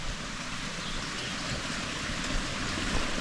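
A forest creek flows steadily near an old logging road, a continuous broadband rush of water with even, unbroken texture close by and no voices.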